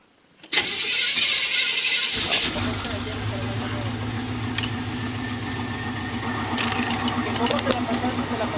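A Chevy OBS truck engine cranks briefly, catches, and settles into a loud, steady idle, with a few light clicks and rattles over the running engine.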